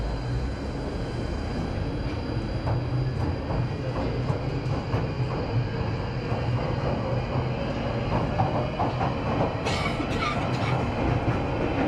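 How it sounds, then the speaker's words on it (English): A London Underground train runs between stations near Charing Cross and Embankment, with a loud, steady low rumble and rattle, faint clickety-clack, and brief high squeals near the end, all continuous with no talking. "This train terminates at Morden."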